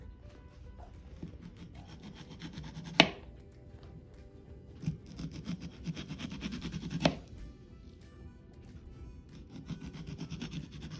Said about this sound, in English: now I need to cut them into little slices